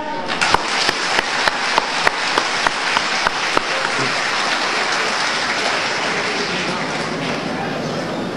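A crowd in a lecture hall claps to welcome a visiting law professor, a steady dense wash of applause building after a few sharp early claps and holding loud throughout.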